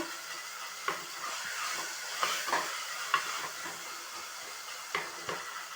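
Ingredients with curry leaves and coriander being sautéed in a pan for crab soup, a steady sizzle broken by sharp clinks and scrapes of a spoon stirring at irregular moments, close and moderately loud.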